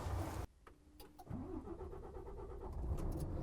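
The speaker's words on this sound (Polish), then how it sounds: "A teraz posłuchajcie, jak ten silnik brzmi." A Volvo FH truck with an LNG gas-fuelled engine runs with a steady, fairly quiet low rumble, then rises briefly in pitch as it revs before settling back to an even hum, with no talk.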